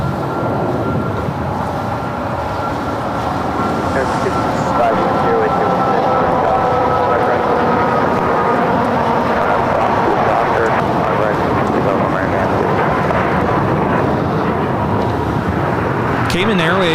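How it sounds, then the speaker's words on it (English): A Cayman Airways Boeing 737 MAX 8 taking off at LAX, a steady loud jet engine roar that stays constant throughout as the aircraft accelerates. "Cayman Airways 481 taking off to Georgetown on the MAX 8"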